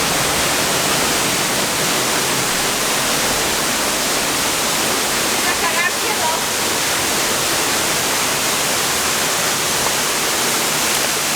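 Cascata della Soffia waterfall at Lago del Mis, Sospirolo, heard from right inside the falls in deep darkness: a dense, steady roar of crashing water, close and loud throughout, with faint voices briefly mixed in near the middle.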